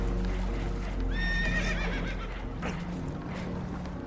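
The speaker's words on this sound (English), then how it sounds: "Horses are spooked, and we're taking on water." Spooked horses in Red Dead Redemption 2 whinny loudly in a brief, rising-and-falling neigh over a low rumbling background, with faint hoof clatter and bits of distant voices.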